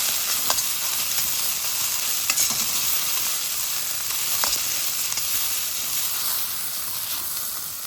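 Onion and capsicum sautéing in a hot pan with beans, a loud continuous sizzle and hiss with occasional stirring scrapes, close up and without speech.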